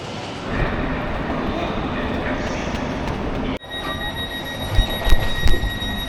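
Steady rumbling train noise in the Swiss Alps fills the clip, with a brief cut midway and a few louder clattering bumps toward the end.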